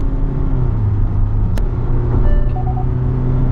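A 2025 Kia Syros pulls away on a drive, heard from inside the cabin as a steady, loud low engine and road rumble with a faint tick and a brief whine.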